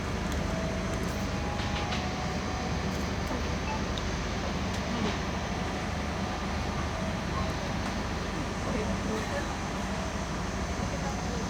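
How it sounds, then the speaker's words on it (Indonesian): The Cikuray passenger train departs Purwakarta station, a steady broadband rumble of rolling wagons heard from inside, with faint clanks and talk underneath. "berangkat dari stasiun Purwakarta kereta api Cikuray"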